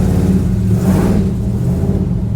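Chevy Squarebody dually truck with a 468 engine, a loud close rumbling rev that builds briefly and then drops away as the engine stalls out.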